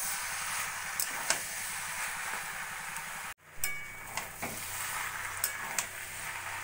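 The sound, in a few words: stirring fried lentil dumplings (bori) into turnip curry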